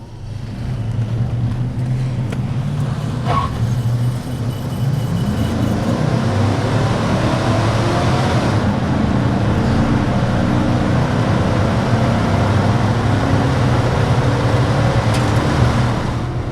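A 2001 Chevrolet K1500 Z71 pickup's 5.3 V8 engine drones steadily and loudly under throttle with a low rumbling roar that builds slightly, heard from inside the cab with no talking.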